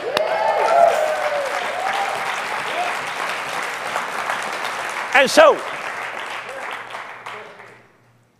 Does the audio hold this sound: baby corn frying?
no